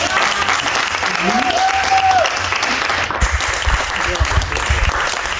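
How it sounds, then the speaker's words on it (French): A dance class audience in Paris, gathered for a mutuashi lesson, claps hard and fast in a loud, close, sustained burst, with voices calling out and a brief whistle-like cry rising through it. "Je vous demande d'applaudir très très fort."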